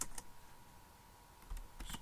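Keys clacking on a computer keyboard while text is entered into a LibreOffice Writer document, a few quick bursts of taps at the start and end with a quiet pause between.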